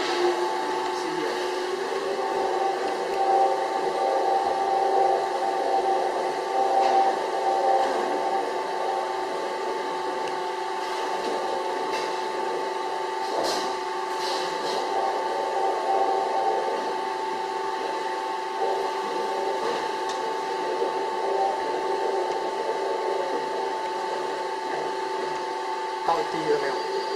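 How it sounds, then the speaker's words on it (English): A steady mechanical hum of a vacuum pump on a toothpaste emulsifying mixer, with constant droning tones and a faint hiss, running evenly and loud throughout. "This valve is for the vacuum pump. And now we touch this pump."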